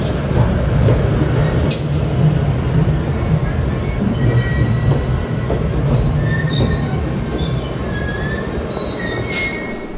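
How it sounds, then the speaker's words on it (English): A Boston MBTA Red Line subway train bound for Braintree runs with loud, continuous rumble and high metallic wheel squeals rising and falling throughout, heard from inside close up with no talk. "we'll go ahead and board this Braintree bound train for now"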